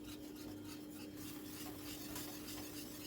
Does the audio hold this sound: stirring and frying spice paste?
yes